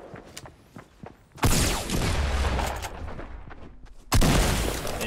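Gunfire in a Fortnite battle royale match: light footsteps and a few small taps, then loud bursts of shooting that crash in suddenly and roll on, another sharp blast near the end.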